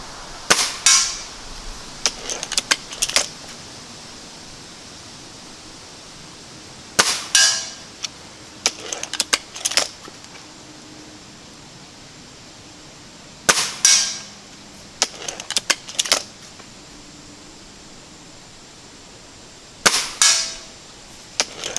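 Air rifle pellets striking a metal sign 50 yards away, heard as four spaced clusters of sharp, distant metallic pings and clangs, each a quick burst of several hits, with quiet outdoor background between.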